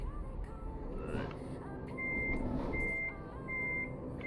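Truck reversing beeps in Euro Truck Simulator 2 sound as a steady series of short, evenly spaced tones, fairly faint over a loud droning engine rumble.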